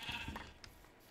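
Sheep bleating in the Minecraft video game, a few short quiet bleats close together near the start that then fade out, with no talking over them.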